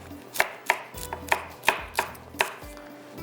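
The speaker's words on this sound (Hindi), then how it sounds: "यहाँ पर हम मिर्चें को काट लेते हैं" A knife chops green chillies on a cutting board in about eight sharp, evenly spaced strikes. No one speaks.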